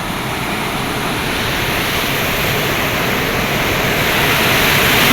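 Chepkiit waterfall near Eldoret, swollen by recent rain, roars as a steady, loud broadband rush of falling water that holds constant and swells slightly toward the end, with no voices.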